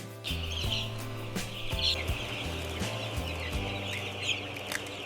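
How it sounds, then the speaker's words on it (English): Newly hatched ducklings peep in a dense, high chorus as they are sorted from eggshells, over a steady mechanical hum from a hatchery line with occasional knocks. "Ducklings go this way, eggshells go that way."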